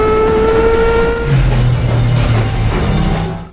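A train brakes in a valley: a long grinding rail screech opens the clip, then gives way to a heavy low rumble as the train slows, loud and close.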